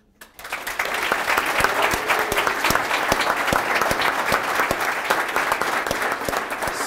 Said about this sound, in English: really glad you applauded that